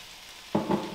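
Fish bones sizzling in olive oil in a saucepan, scraped against the pan: after a quiet start a loud frying hiss bursts in and swells twice as the pan is stirred, close and with no voices.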